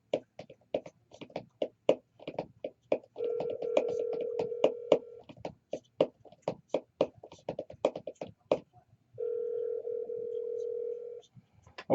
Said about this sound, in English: Call Gary Wheeler